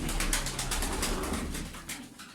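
Pigeons coo softly in a loft, a low repeated murmuring under a constant background hiss, fairly faint and continuous without voices.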